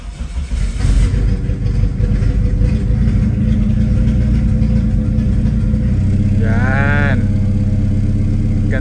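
A Toyota Starlet EP82 with a 4E-FTE engine runs after a misfire fix: a steady, loud close rumble throughout, with a brief rising tonal sound near the end.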